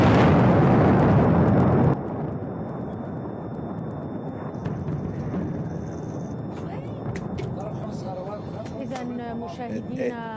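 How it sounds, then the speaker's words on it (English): Bombing in Beirut's Dahieh neighborhood comes through as a loud, sustained blast rumble that cuts off, followed by a lower rolling din of distant booms and crackles beneath a voice. "Look at this bombing."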